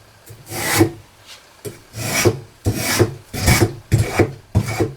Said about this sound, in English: Now what you're going to need is one of these. It's a spoke shave.